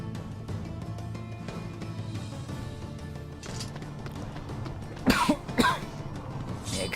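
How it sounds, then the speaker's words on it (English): A person with a tickly throat coughs twice in quick succession, loud and close, over a steady background of game music. "Excuse me if I cough quite loud. I've had a bit of a tickly throat."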